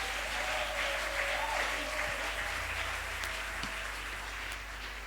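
A church congregation applauding, a steady wash of clapping that holds at an even level throughout, with a faint voice briefly audible underneath.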